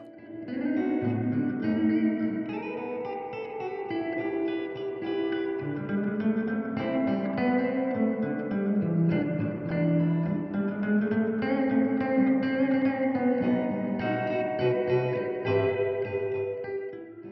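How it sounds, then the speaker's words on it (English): A sustained, echoing tone washed in the reverb of a real mechanical spring reverb with no electronics, notes blooming and ringing into a metallic, splashy tail, steady and loud with no talking. "This is a real Spring Reverb with no electronics."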